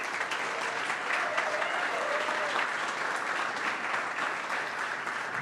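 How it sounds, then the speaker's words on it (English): Sustained audience applause at a startup demo day event, a steady dense wash of many hands clapping throughout with faint crowd murmur underneath. "I'd love to give her a round of applause."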